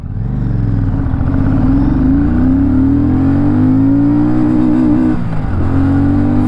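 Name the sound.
motorcycle engine revving and accelerating in first gear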